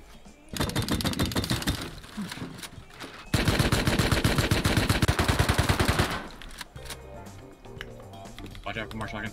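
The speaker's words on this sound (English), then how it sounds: "he almost was gonna get me killed by the shotgun traps" Gunfire in the Rust video game during a base raid, with two long loud bursts of rapid, closely spaced shots separated by a brief gap, followed by quieter clatter and a voice talking.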